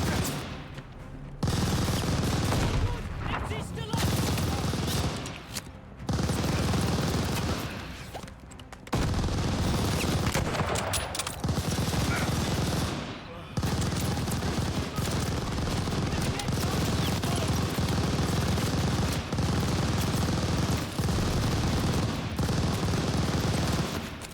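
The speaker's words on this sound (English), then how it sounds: "We need a grenade on that MG!" Sustained machine-gun fire from a World War II shooter game, Call of Duty: Vanguard, loud and near with dense bursts of rattling shots and booms nearly throughout, pausing briefly a few times.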